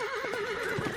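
A chariot horse gives a short, wavering neigh, loud and close, with faint hoof clatter beneath it.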